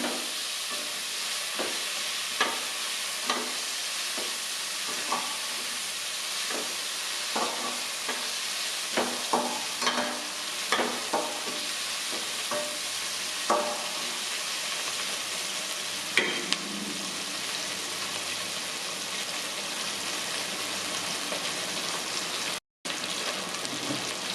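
Spice paste with chopped onions and tomatoes sautés in a pan while being stirred, giving a soft continuous sizzle broken by regular light taps and scrapes of the spatula throughout.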